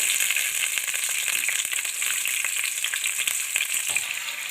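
Coarsely chopped onions and garlic frying in hot oil in a heated pan, a dense, loud, continuous crackling sizzle close up with no pauses.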